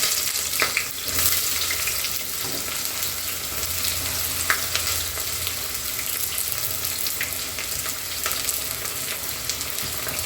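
Onions frying with cardamom, cinnamon and cloves in a pan for Kerala chicken biryani, a steady close hiss and sizzle with faint scrapes and clicks of stirring throughout.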